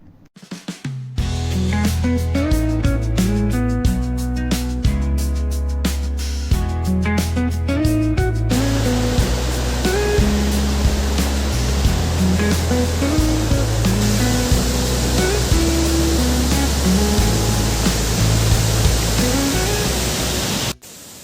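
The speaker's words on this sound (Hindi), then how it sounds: "अब हम फाइनली क्रांगसुरी वाटरफॉल के बेस पर आ गए हैं।" Krangsuri waterfall in Meghalaya roars at its base during the monsoon, a dense, continuous rushing wash that swells in partway through and then holds steady beneath prominent background music.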